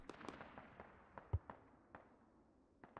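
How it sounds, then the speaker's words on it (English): Distant mortar fire and impacts in the military shooter game Squad: scattered faint thuds and cracks, with one sharper deep boom standing out partway through, over a quiet background. "More mortars coming out."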